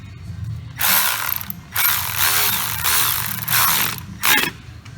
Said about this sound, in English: This is an 8 mil, so I'm gonna tighten this first.